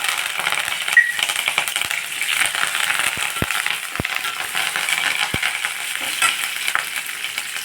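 Green chilies, lentils and curry leaves tempering in hot oil for a tamarind poha dish give a steady close crackle and sizzle, with a few sharp ticks of stirring across the stretch and no talk.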